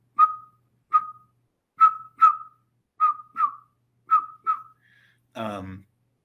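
A person whistles a short, steady note repeatedly in pairs, evenly spaced, imitating a northern pygmy owl's call, followed by a brief spoken word at the end.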